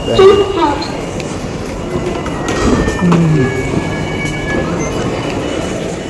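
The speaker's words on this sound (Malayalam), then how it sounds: "റെയിൽവേ സ്റ്റേഷനിൽ" Train at a busy Majestic railway station in Bangalore in the early morning, rumbling and clattering steadily with a brief wheel squeal and a horn-like tone, amid station noise and voices in the background.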